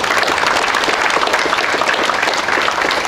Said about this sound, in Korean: 박수로 만나주시면 대단히 고맙겠습니다